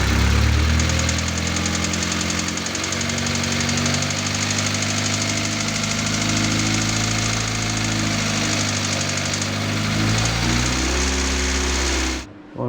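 Engine of an Audi A4 B5 1.8T with a GT2860RS turbo running with a loud, steady rattling clatter that stays constant through the revs, close up in a garage, with no talking, before it cuts off abruptly at the end.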